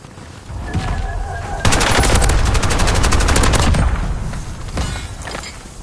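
Gunfire in the battle-royale game Warzone, with a loud sustained burst of rapid automatic fire in the middle and scattered shots before and after, close and dense.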